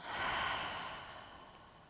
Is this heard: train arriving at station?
no